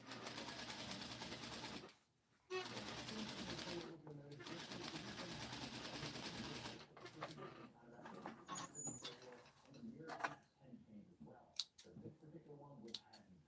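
A sewing machine stitches a jumpsuit in steady whirring bursts, briefly stopping and restarting, then giving way to quieter clicks and handling noises while a person talks.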